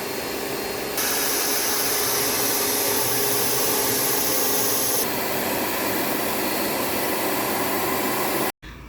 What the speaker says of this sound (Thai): ฉีดล้างทำความสะอาดแผงหน้าหม้อน้ำให้นะคะ